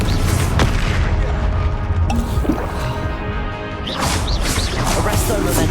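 A Confringo blasting spell explodes in the Hogwarts Legacy video game: a dense, loud booming crash with crackling debris that fills the whole stretch and swells again near the end.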